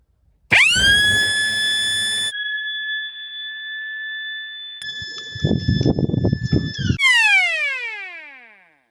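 A Klaxon Master Blaster siren, triggered through an Ajax Systems 12V relay, blares in steady piercing tones, shifting pitch in stages with a brief gap, then ending in a descending wail.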